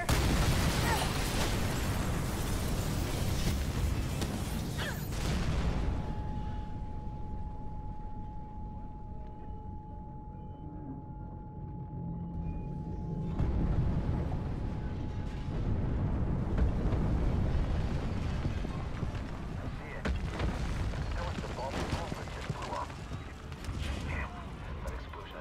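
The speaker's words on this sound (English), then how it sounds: "Big explosion over here!" A big explosion in the video game Mirror's Edge Catalyst, a broad rumbling blast that fills the low end, with a quieter stretch in the middle before rumbling debris and game noise swell again, and voices speak over it.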